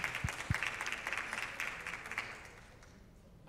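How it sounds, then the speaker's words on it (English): Audience at a conference side session applauding, steady dense clapping that holds for a few seconds and then gradually tapers off, heard fairly faint and distant. "Give us a big hand of applause"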